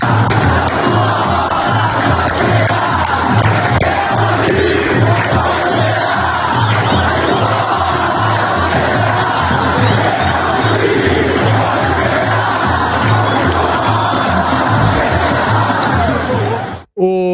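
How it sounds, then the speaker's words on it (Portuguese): Bragantino home supporters chant in unison to taunt Flamengo at a Brazilian football match, a loud, dense stadium roar with a steady rhythmic pulse that carries on without a break, then cuts off abruptly at the end. "Agora, do início ao fim, a provocação da torcida do Bragantino."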